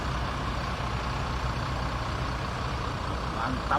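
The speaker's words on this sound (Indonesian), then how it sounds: "Ini dia mobil kita baru tiba di Terminal Polres Pelawat" An LBJ Transport bus, door number 01, pulling into a terminal in Indonesia, its loud diesel engine rumbling steadily up close with a faint hiss near the end.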